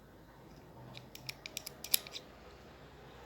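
Scissors snip through folded paper to cut a paper snowflake model, giving a quick run of crisp, close clicks and snips in a quiet room.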